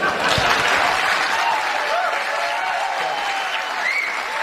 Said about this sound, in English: Isn't that weird that they're already cheering and they don't know what he's about to say?